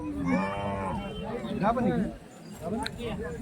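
A cow lows with a drawn-out moo amid steady voices and bustle, as other people talk nearby in a busy outdoor crowd at a cattle market selling HF cows.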